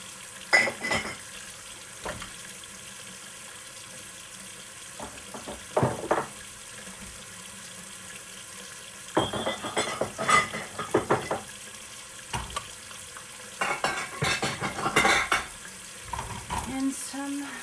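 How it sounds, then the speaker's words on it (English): Dishes, pots and pans washed at a kitchen sink, with bursts of running tap water and clattering separated by quiet gaps, heard close up and without talk. "Catching up on some dishes."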